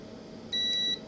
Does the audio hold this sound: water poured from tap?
no